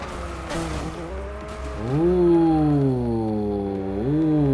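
A rally car racing in the video game Forza Horizon 5, its engine whining and rising through gears in a loud, close drone with tire noise underneath.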